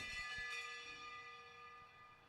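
A bell rung for the last lap of a short-track race, ringing out with a sustained metallic tone and slow decay over distant crowd and track noise, with no talk.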